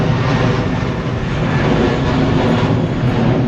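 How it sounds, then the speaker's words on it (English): An airplane flies over Chiang Mai, its engine roar a loud, steady, broadband rumble that holds through the whole short stretch with no talking. "I don't know how many planes a day out of here,"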